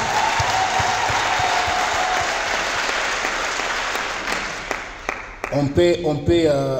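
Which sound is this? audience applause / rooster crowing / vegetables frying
audience applause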